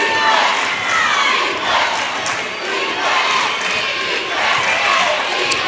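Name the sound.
basketball crowd cheering and shouting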